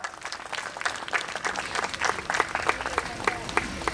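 Crowd at a school's annual social gathering in Nagpur claps in a dense, steady burst of applause, moderately distant with a hall-like spread and some scattered cheers.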